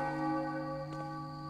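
A deep bell tolls in Thief II: The Metal Age, a single sustained strike ringing out with long humming overtones that slowly fade, heard alone with no talking.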